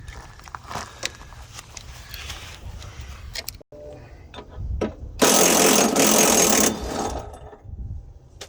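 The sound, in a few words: loosening body mount bolts on a Chevy Express van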